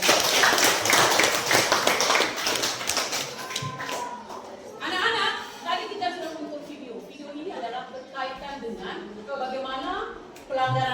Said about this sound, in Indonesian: Oke, aplaus dulu untuk kalian.